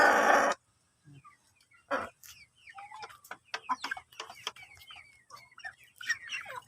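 Chickens and small chicks heard close by, with soft clucks and a flurry of high thin peeping calls scattered irregularly across the scene after a brief loud rustle at the start.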